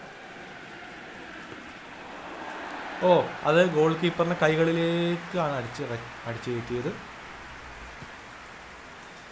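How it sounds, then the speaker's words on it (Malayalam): Heavy rain falls steadily throughout a rainy match in the PES 2020 football video game, making a constant broadband hiss while a commentator talks over it for several seconds. "നല്ല തകർത്ത് മഴ പെയ്തുകൊണ്ടിരിക്കുന്ന കാഴ്ചയാണ് നമ്മളിവിടെ കാണുന്നത്."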